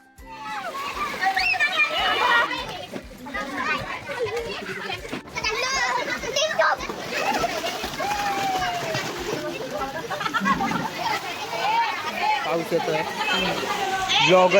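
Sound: children playing and splashing in swimming pool

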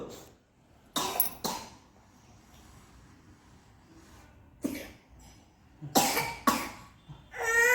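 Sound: person coughing

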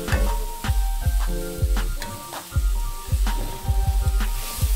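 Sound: stir-frying cabbage in a pan

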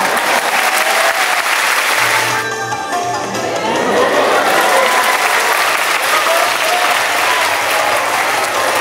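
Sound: audience applause at a traditional Japanese spinning-top performance

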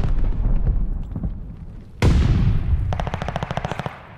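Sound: gunfire in a first-person shooter video game

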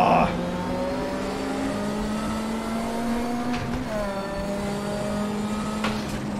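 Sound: Group 5 turbo touring race car engine in RaceRoom video game

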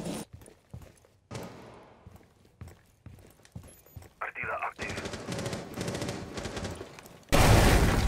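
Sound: gunfire in Rainbow Six Siege video game

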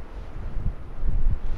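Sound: wind in a forest at night

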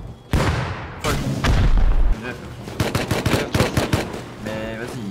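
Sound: grenade explosions in the video game Rust

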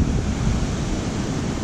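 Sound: waterfall beside a campsite on Lady Evelyn River

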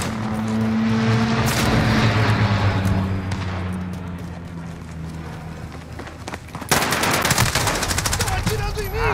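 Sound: AN-94 gunfire in Call of Duty video game

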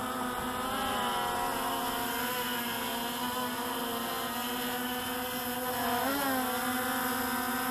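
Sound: Hubsan X4 Pro drone motors straining with 3DR Solo props

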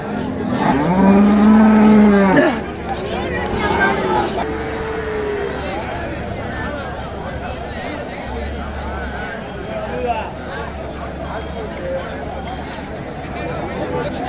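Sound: cattle at a market, bulls lowing

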